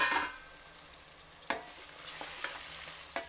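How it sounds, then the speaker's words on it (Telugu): Onion pieces frying in a pan on a stovetop during curry preparation, with a soft sizzle throughout and a few sharp clinks of a spoon stirring against the pan. "మధ్య మధ్యలో కలుపుతుండాలి ఉల్లిపాయ ముక్కల్ని."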